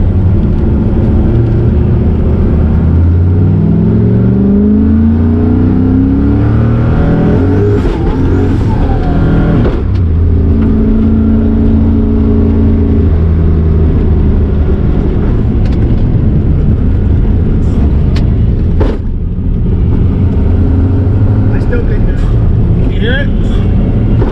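Car engine started and revved after sitting unused all year with condensation in it, a track car; loud continuous engine drone with rising and falling rev sweeps, close by, with people talking over it.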